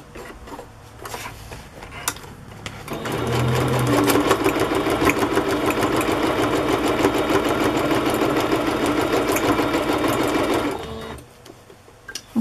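A sewing machine stitches in one continuous run of about eight seconds, a close, loud, rapid mechanical whirring and clatter, framed by quieter handling clicks before and after.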